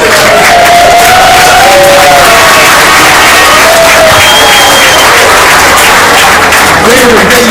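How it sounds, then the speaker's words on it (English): A large outdoor crowd at a groundbreaking ceremony for the Irishtown Bend Cuyahoga River stabilization loudly cheers, whoops and claps for union workers, a sustained roar lasting several seconds with shouts rising above it. "They were cheering for union workers."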